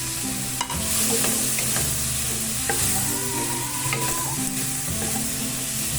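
Ingredients for sinigang, including tomatoes, sautéing in a pan, a steady loud sizzle with stirring scrapes and occasional clinks of a utensil, no talk.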